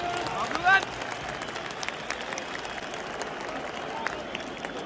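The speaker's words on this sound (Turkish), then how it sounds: "Herkes alkışlıyor." A stadium crowd at a Beşiktaş–Trabzonspor football match keeps up a broad, steady wash of applause and crowd noise, with a brief louder shout near the start.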